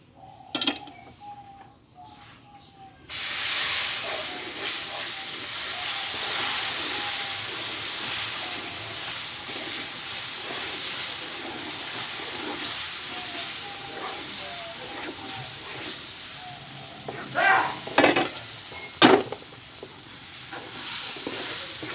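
Boiled milk poured into atta halwa frying in a pan sets off a loud, steady broadband sizzle and steam hiss lasting throughout, with scraping stir clatters near the end and occasional light taps; no talking.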